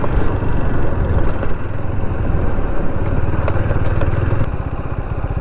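A motorcycle's engine runs steadily and loudly close by as the bike pulls away on a hot-weather road ride from Kolkata toward the Joypur forest in Bankura, with a continuous mid-pitched rumble and faint clatter throughout.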